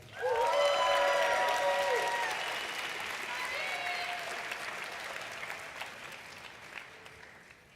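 An audience applauds graduates at a university commencement ceremony, a broad wash of clapping with cheers and whoops rising over it early on, then gradually fading.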